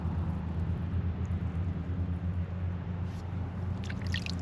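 Cold spring water welling up from the ground and trickling along, a steady close wash of running water with a low rumble and no talk over it.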